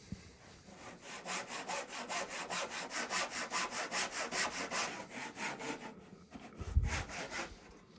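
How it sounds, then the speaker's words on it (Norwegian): A hand saw cuts through a wooden plank clamped down for a straight 90-degree cut, making steady rhythmic rasping strokes, close and clear, about a dozen strokes before stopping with a soft thud. "Så er det bare å sage i vei."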